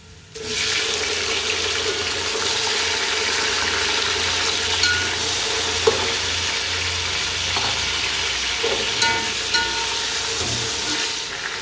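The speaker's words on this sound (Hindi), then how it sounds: "प्याज हमारा गोल्डन हो चुका है। आज इसमें टमाटर ऐड कर दूंगी।" Tomatoes added to golden fried onions in a pan for Afghani Kabuli pulao, loud continuous sizzling and frying with occasional stirring scrapes and pops, close and steady throughout.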